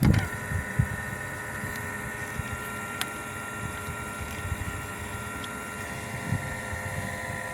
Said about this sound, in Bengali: দেখছেন মোটর কি এত কম স্পিডে ঘুরে?